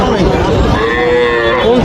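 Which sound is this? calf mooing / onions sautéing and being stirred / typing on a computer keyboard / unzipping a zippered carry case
calf mooing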